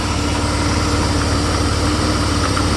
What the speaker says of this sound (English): AC is on right now. Compressor is spinning.